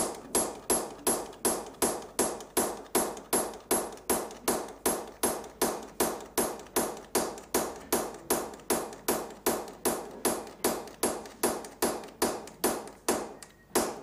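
Hammer blows on a chisel cut teeth into a steel file by hand, about forty sharp metallic strikes in a fast, steady rhythm, close and loud with no talking.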